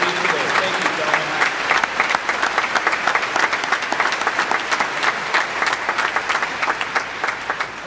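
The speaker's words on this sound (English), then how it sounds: "Let's give a well-deserved round of applause to our retirees, Dennis and Tom, as they leave today." Sustained applause from a large crowd at a high school graduation ceremony honoring two retirees, dense steady clapping that holds at full level throughout.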